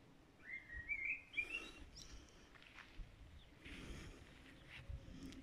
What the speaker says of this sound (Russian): Вон там живет эта птичка. Там у них гнездо.